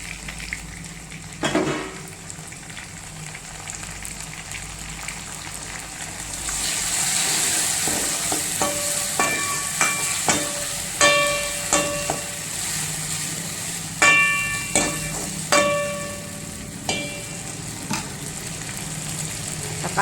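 Tomatoes frying in a pan with onion, coriander leaves and green chilli for a fish curry, a steady loud sizzle rising partway through, with repeated sharp clinks of a ladle stirring against the pan.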